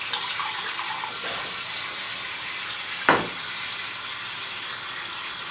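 Water runs steadily from a tap over a shaving brush as it is rinsed at a sink, a constant broadband hiss with one brief splash midway and no talking.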